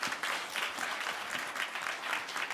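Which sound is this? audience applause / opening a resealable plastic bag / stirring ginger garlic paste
audience applause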